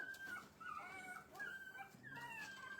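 A newborn blind and deaf puppy whimpers in thin, high, wavering cries, several short whines and squeaks in quick succession, close and soft.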